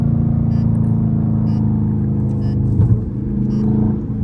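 Dodge Scat Pack V8 engine rumbling while driving on the street with windows up, a steady low drone with a soft downshift and slight rev change partway through.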